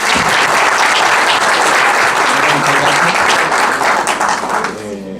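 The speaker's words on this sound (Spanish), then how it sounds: "Yo quisiera que le diéramos un aplauso a la CAR." Loud audience applause at a conference gathering, a dense burst of many people clapping that holds strong before tapering off near the end, where a voice briefly begins.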